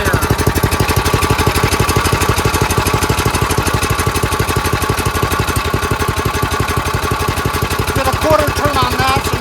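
A surging snowblower's small engine runs at raised speed after a governor screw and idle adjustment, a fast steady putter close by with a brief voice near the end.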